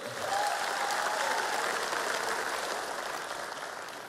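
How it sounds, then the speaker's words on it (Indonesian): Steady crowd applause at a Ganjar Mahfud campaign rally, many hands clapping densely and evenly throughout, moderately loud with no voices on top. "Tepuk tangan untuk Mas Ganjar dan Prof. Mahfud."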